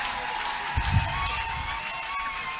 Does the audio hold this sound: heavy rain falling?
no